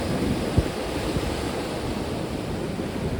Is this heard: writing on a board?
no